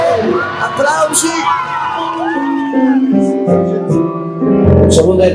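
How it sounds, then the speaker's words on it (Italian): An audience at a lunch show cheers loudly with whoops and yells from a close crowd that continue throughout. "Applausi."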